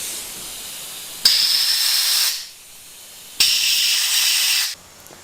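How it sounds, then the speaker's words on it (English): Air compressor nozzle blowing out threaded holes on a Harley-Davidson handlebar riser, two loud bursts of hissing air about a second long each, separated by a short pause, close up. "now I'm going to get the air compressor and blow these holes out"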